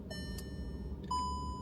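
A mobile phone chiming with tonal electronic beeps, a brief tone then a sustained higher note near the end, over a steady low background rumble, no voices.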